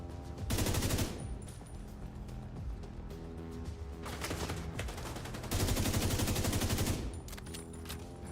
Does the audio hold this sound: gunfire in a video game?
yes